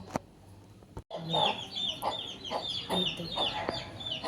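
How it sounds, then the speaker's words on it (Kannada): A hen with her chicks clucks close by in a series of short, repeated clucks with a few sharper calls, against light background noise. "ಈ ಕೋಳಿ ಯಾವಾಗಲೂ ಅದ್ರ ಮರಿ ಕರ್ಕೊಂಡು ಇಲ್ಲಿಗೆ ಬರುತ್ತೆ."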